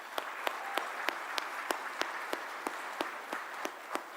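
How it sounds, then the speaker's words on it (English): Round of audience applause at a political dinner, steady clapping with one pair of hands standing out in sharp, evenly spaced claps close by. "How about another round of applause for David and Lauren and the team for putting on this event?"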